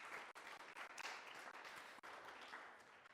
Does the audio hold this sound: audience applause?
yes